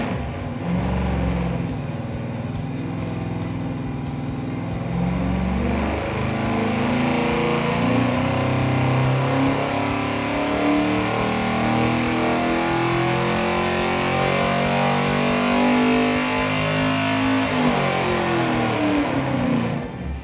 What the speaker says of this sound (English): Just got the engine set up here on the dyno and getting ready to do some sweeps.